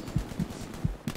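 Gunfire in the WW2 shooter game Hell Let Loose, a few short sharp shots in quick irregular succession, moderately loud, with no talk.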